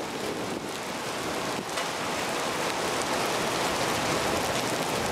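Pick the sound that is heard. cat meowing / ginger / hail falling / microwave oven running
hail falling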